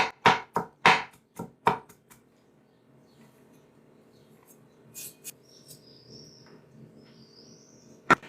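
A knife chops green onion into small pieces on a board, about seven sharp, quick cuts near the start, then a quiet stretch with faint light tapping and a single click at the very end.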